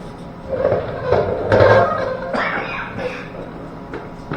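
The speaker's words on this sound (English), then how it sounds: "Cough. Cough. You dying, bro?" A few rough coughing bursts spaced over a few seconds, close and fairly loud, with no clear talk in between.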